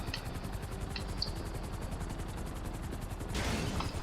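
Helicopters circling during the Cayo Perico heist in GTA Online, a steady rapid rotor chop throughout with a sudden louder burst of noise near the end, no talking.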